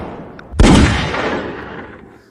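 A single loud sniper rifle shot cracks out in a dramatic action scene, booming sharply and then rolling away in a long fading echo over about two seconds.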